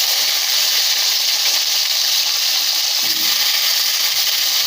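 Potatoes frying in tempered oil give off a loud, steady hiss of sizzling that never lets up.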